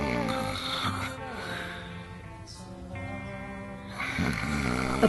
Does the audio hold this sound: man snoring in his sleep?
yes